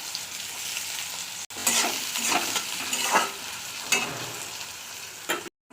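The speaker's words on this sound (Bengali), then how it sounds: "ওই তেলের মধ্যে আমি দিয়ে দেবো গোটা জিরে ফোড়ন, তারপর দিয়ে দেবো পেঁয়াজ কুচিগুলো।" Whole cumin and chopped onions frying in oil, a close crackling sizzle with bursts of stirring and scraping in the pan, briefly cut off near the end.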